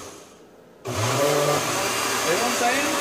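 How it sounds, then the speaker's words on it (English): A blender starts up abruptly after a quiet moment and runs loudly and steadily, whirring as it purees food, the motor pitch wavering slightly as the contents churn. "Alright, now we're going to blend this amount."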